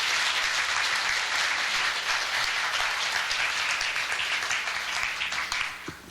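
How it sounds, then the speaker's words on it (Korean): Steady applause from an audience at a National Assembly event in Korea, a dense wash of clapping that holds evenly for several seconds and then thins out toward the end, with no talk over it. "다시 한번 큰 박수로 정 의장님 감사드립니다"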